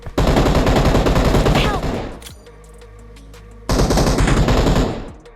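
Loud, dense automatic gunfire from BGMI PUBG Mobile rattles in two long sustained bursts separated by a short lull of quieter game ambience.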